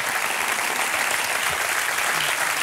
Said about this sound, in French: Faites-vous applaudir un peu.